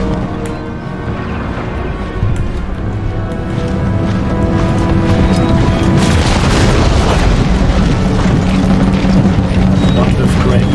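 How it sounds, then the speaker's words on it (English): Howitzer artillery fires in the video game Empire: Total War, heard as a dense, continuous rumble of booms and battle noise, loud and close, with someone talking over it. "Howitzers come in."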